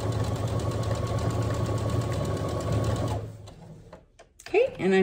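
A sewing machine stitches a drawstring backpack in a fast, steady, close whirring run for about three seconds. It then stops, and a voice follows.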